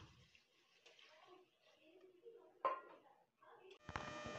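Water splashes and trickles into a metal pot, with clinks of the vessel, ending in a steady pouring stream close by.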